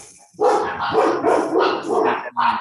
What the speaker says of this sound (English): someone's dog's upset